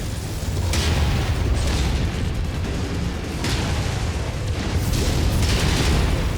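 Missile explosions in MechWarrior combat, loud booming blasts in quick succession over a constant rumbling battle din, with sharper bursts standing out every couple of seconds.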